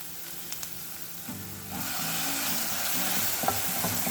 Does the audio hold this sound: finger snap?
no